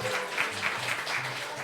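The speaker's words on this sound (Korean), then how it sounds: "박수" A church congregation claps for young people being given gifts, a short burst of moderate applause with faint voices beneath it.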